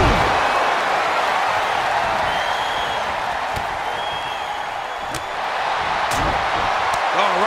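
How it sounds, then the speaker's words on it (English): A video game crowd at a WWE 2K23 Royal Rumble match roars in a continuous broad wash with faint sharp impacts, and commentators' voices sit under the noise. "Just listen to the crowd."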